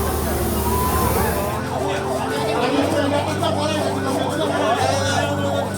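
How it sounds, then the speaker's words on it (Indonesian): Wailing ambulance sirens rise and fall continuously at an accident scene near a railway crossing in Bekasi, loud and overlapping amid traffic noise, with voices talking underneath. "Banyak ambulan."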